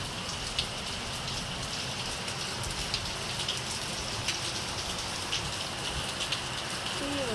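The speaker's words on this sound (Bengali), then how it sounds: "কিন্তু এই বৃষ্টিতে যাবো কী করে দেখছেন কী অবস্থা" Heavy rain pours steadily, a dense hiss of drops on surfaces with occasional louder splats, constant and close throughout.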